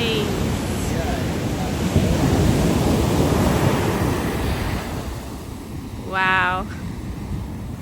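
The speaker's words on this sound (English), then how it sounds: "Look waves." Ocean surf rolls along the South African coast, giving a broad, steady roar with rising swells. A short vocal exclamation cuts in near the end.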